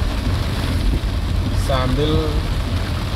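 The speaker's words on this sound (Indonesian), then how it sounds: "sore hari ini hujan cukup lebat di Kota Kupang" Heavy afternoon rain falls in Kupang, a dense, steady hiss of downpour that fills the scene while a person speaks briefly over it.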